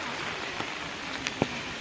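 Light rain falls over flooded paddy fields during rice transplanting in the Konkan countryside, a faint, even patter with a few sharper drops. No voices are heard.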